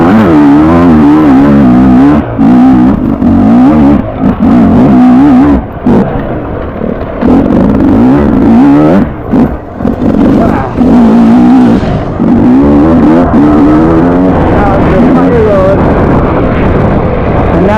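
Motorcycle engine ridden at speed, loud and close throughout, with the revs rising and dropping in waves as gears are shifted up and down over hilly ground, wind buffeting over it.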